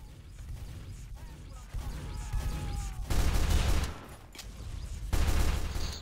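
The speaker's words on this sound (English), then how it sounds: "Sticky bomb launcher." Sticky bomb launcher fire in a Source engine shooter game comes as bursts of muffled thumping shots and clattering impacts, louder in two stretches, with faint chatter underneath.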